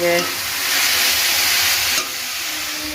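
A steady loud sizzle of potatoes frying in hot oil, constant hiss throughout with a brief tonal voice at the start.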